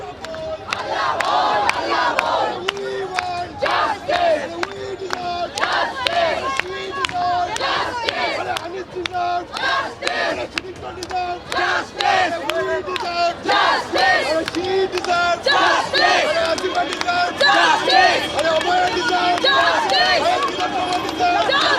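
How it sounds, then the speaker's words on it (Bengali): Jadavpur University students, alumni and professors marching in a street protest, a large crowd shouting slogans in rhythmic bursts, loud and sustained with cheering and babble mixed in. "এই মুহূর্তে দেখছো রাস্তার মাঝখানে দাঁড়িয়ে তারা স্লোগান দিচ্ছেন।"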